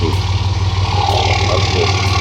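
A faulty German car engine runs close and loud, a steady rough low rumble throughout with a faint voice in the background.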